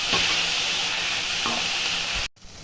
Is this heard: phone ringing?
no